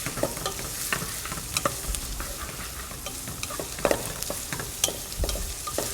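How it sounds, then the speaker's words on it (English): Guanciale fries in a pan with a dense, crackling sizzle, and frequent scraping stirs and small pops come through at close range, with no talking. "Add your guanciale. And we're just gonna let that cook just a little bit."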